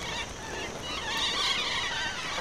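Birds calling in the open, a fairly steady and moderately loud chorus of honking, goose-like cries across the whole stretch with no talk.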